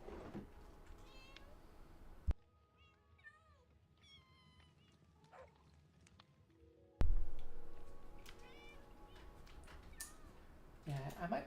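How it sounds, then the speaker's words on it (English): Several short kitten meows from Minecraft baby cats, a high thin cluster of small mews in a quieter stretch, with game ambience and other meows scattered around it and some talking over parts. "I want to be able to hear the kitten's adorable little meows"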